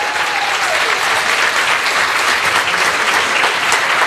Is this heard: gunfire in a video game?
no